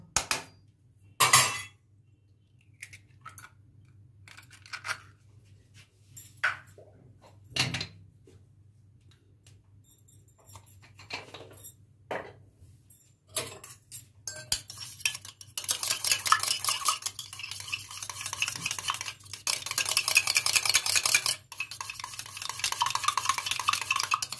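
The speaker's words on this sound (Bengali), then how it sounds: "এবার আমি একটা গ্লাসের মধ্যে একটা করে ডিম ফাটিয়ে নেবো নিয়ে আমলেট করে নেবো" Sharp clinks and taps of eggshells against a glass, then rapid rhythmic whisking of eggs for an omelette with a utensil clattering inside the glass, growing louder.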